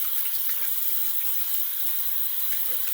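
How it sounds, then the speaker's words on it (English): Water pours steadily into a bathtub as it is rinsed, a soft, constant hiss and splash that runs evenly from start to finish with no voices. "Just rinsing the tub off here."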